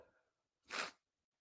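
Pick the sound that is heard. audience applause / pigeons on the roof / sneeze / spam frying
sneeze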